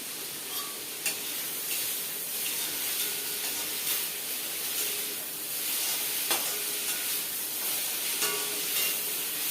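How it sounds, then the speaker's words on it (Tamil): Snake gourd curry with coconut sizzles and sautés in a pan, a steady bright frying hiss broken by occasional clicks and scrapes of stirring. "இது நல்லா வதங்கி வரணும்."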